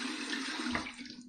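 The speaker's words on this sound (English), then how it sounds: "I'm going to put some cold water on this." Cold water runs from a tap in a steady, hissing stream, heard close during an evening head shave, then tapers off near the end.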